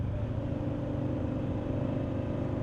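A small Kawasaki Z125 Pro motorcycle with a roughly 8-horsepower engine hums steadily while riding on a winding mountain road, its droning note loud and continuous with wind noise.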